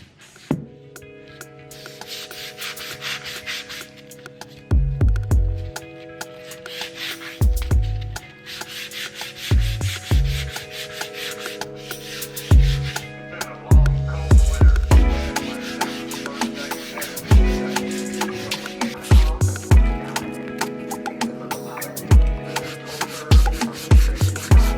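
Wooden bowls are sanded by hand, with repeated scratchy rubbing strokes in an uneven rhythm, loud and close, over a steady musical background.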